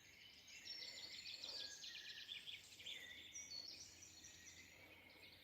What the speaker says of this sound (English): Those birds are amazing.